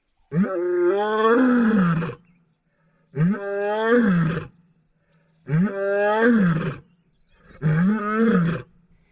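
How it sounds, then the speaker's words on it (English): A lioness guarding cubs near a den gives four loud, deep, drawn-out roars, each a couple of seconds long, separated by short pauses, heard close and alone. "Suddenly we heard Savannah roaring"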